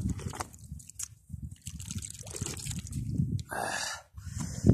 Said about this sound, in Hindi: यहाँ देखो साफ़ शफाफ पानी भी चल रहा है।